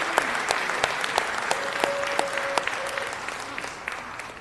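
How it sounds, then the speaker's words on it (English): Steady applause from the audience at a city council meeting, with sharp individual claps standing out near the front and a faint whistle-like tone running through the middle. "Let's give him another round of applause."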